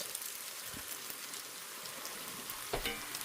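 Homemade totopos, tortilla chips, frying in hot oil: a steady soft crackle and sizzle, faint and close, with a couple of brief clinks of a utensil turning them.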